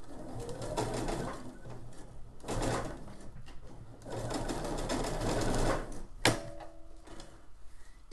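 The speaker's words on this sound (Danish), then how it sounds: "for vi laver lige et lille hjørne og syr op" A sewing machine stitches up a small corner of fabric, its steady whirring run stopping and starting in several bursts, close and moderately loud.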